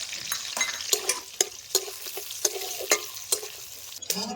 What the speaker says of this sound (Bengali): কাজু বাদামটাও হালকা করে ভেজে নেব